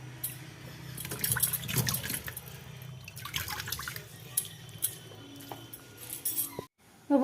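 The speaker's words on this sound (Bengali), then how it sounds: "এটা লাস্ট বার ধুচ্ছি মাংসটাকে।" Water running and splashing as raw meat is rinsed by hand in a Bengali village kitchen, a steady close wash with drips and light clinks, broken by a brief pause near the end.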